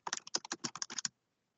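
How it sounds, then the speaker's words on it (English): Quick typing on a computer keyboard, a close burst of about a dozen crisp key clicks in uneven rhythm over roughly a second, then silence. "I'm just going to type some gibberish here"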